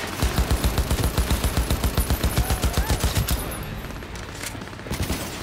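Rapid automatic gunfire in the video game Cyberpunk 2077, a loud rhythmic burst of evenly spaced shots lasting about three seconds, then tapering into scattered impacts and a couple of later single cracks.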